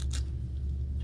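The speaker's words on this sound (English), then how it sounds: "I'm checking on just regular hair, seeing if it cuts good." A single quick snip of Bonika shears closing through a lock of regular hair, crisp and close, over a low steady hum with no voices.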